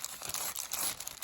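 Painted fusible webbing being pulled off brown paper, one short continuous crinkling rip heard up close and fairly loud, with no voices.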